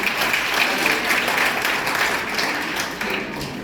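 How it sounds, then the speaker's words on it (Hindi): A seminar audience claps for a participant, a dense, steady wash of applause from many hands, close and sustained throughout with no voices on top. "एक बार मनीषा बहन के लिए शानदार ताली बजाएं।"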